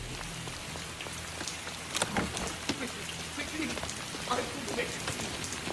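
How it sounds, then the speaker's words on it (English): Steady rain patters on a surface throughout, a dense hiss with scattered louder drops, while a voice briefly calls out over it. "And on top of everything, it's raining."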